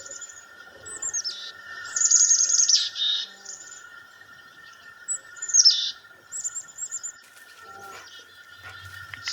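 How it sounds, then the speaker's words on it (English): Chickadee alarm calls ring out in short bursts of buzzy, descending chirps, moderately close, over a steady background hum, with quiet gaps between. "Notice that slightly different chickadee call."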